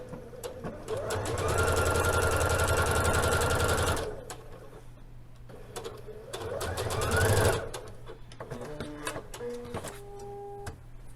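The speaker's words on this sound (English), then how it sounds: "And sew that down." A sewing machine runs close and loud, stitching fabric pattern pieces for a palazzo suit in a long steady burst and then a shorter one, followed by light handling clicks and faint tones.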